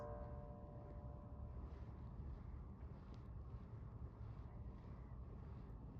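Steady wind buffets the microphone, a constant rumbling roar with no pauses, continuing unbroken throughout.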